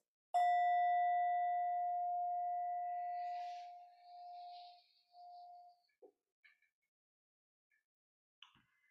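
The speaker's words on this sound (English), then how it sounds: "I'll just offer the bell to begin practice, to signal the beginning of practice" A meditation bell struck once to open a practice session, a clear ringing tone that sustains and slowly fades over several seconds, followed by a few faint soft sounds in otherwise quiet surroundings.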